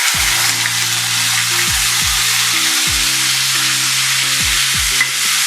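Cumin and seeds fry in hot oil in a pan with a loud, constant, close sizzle, while background music plays beneath it.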